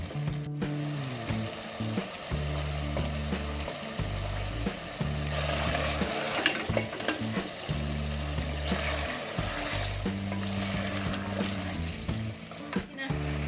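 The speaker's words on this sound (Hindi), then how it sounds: "इसको अच्छे तरीके से अपना भून लेती हूँ" Mutton and potatoes fry in a handi with a soft, continuous sizzle and occasional stirring clatter, sitting under a low, shifting tonal hum that runs throughout.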